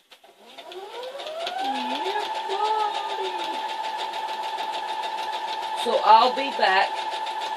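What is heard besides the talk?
sewing machine sewing down a newspaper quilt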